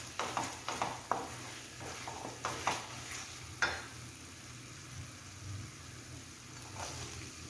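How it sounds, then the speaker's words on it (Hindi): Corn kernels tipped into a pan of sizzling spinach curry, with a string of sharp clattering knocks and stirring scrapes over a steady low frying sizzle. "इस स्टेज में हम इसमें अपने कॉर्न डाल देंगे।"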